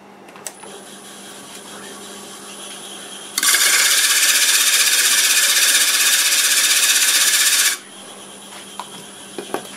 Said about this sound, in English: So how I flatten them is I just use a board with sandpaper on it.